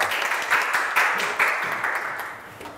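An audience at a social economy enterprise pitch event applauds to welcome a speaker onstage, a steady wash of many hands clapping that gradually thins out over a few seconds.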